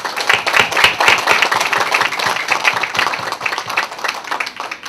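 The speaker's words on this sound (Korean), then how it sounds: "이분들에게 큰 박수 보내시기 바랍니다" An audience applauds at a commemorative ceremony, a dense, steady wash of many hands clapping for the full length, fairly loud and unbroken with no talk over it.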